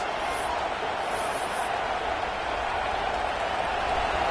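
A crowd in a college football video game keeps up a continuous broad roar of cheering. The noise holds steady throughout and stays loud.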